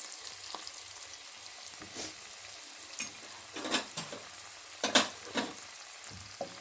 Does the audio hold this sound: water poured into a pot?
no